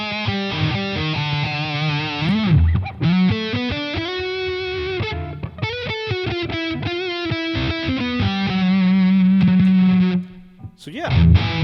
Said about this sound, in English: Let's hear some delay now.